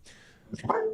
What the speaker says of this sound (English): My dog is in my office here with me today. As you can hear him barking.